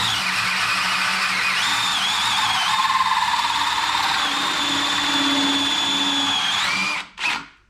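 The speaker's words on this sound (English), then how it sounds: "I've just got one of my hole saws and that should be enough" A power drill with a hole saw whines steadily for several seconds, drilling a catch can held in a vise, pitch shifting under load, then stops abruptly with a brief final whir.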